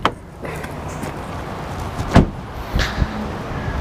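Bonnet of a Mk8 VW Golf R being opened, a few sharp metallic clunks and a latch release among quieter handling knocks, close by with no speech.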